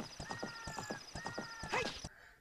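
Rhythmic hoofbeats of a galloping horse in The Legend of Zelda: Ocarina of Time, with tonal game sounds layered over them, ending in a brief crash before quieting.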